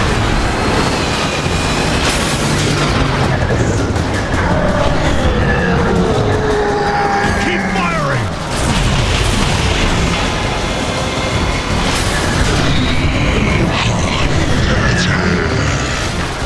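Missiles explode in the Transformers War for Cybertron video game as loud, rumbling booms and blasts crowd a dense, continuous battle soundscape, with game voices mixed in.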